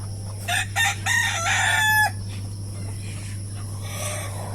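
Native village chickens on a small poultry farm crow loudly and repeatedly in a burst of close calls during the first two seconds, then fade to faint clucking over a steady background hum and insect chirping.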